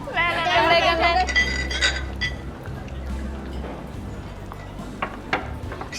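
Glasses clink together in a celebratory toast among office colleagues drinking. Bright, ringing clinks come at the start, then people keep talking over soft background noise.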